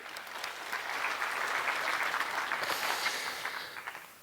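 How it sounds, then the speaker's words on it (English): Conference audience claps in a dense, even wash of applause that swells and then tapers off over a few seconds, heard at moderate distance with no talking. "Let's have another round of applause for that guy."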